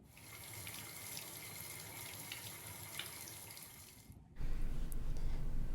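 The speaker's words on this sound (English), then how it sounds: "And then I go and rinse it in the tub." Water running from a bathtub tap while hair is rinsed, a steady hiss with splashing that shifts partway through to a fuller, louder gush close by, with no talking.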